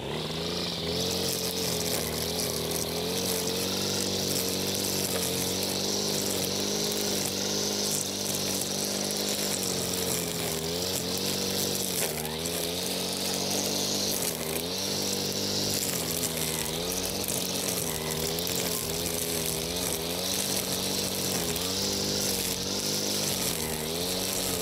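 An Active ST25B petrol brush cutter runs close by on grass with a constant buzzing drone that wavers slightly in pitch throughout, steady and loud with no pauses.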